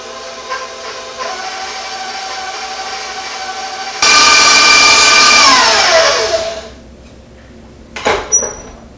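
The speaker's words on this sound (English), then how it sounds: "Then I'll mix this real good." Electric mixer whipping homemade frosting with vanilla extract, a steady motor whir that jumps louder and higher partway through, then drops off to a quieter hum and stops with a couple of clunks.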